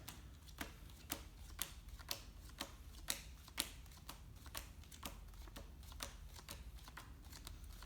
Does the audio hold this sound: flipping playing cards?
yes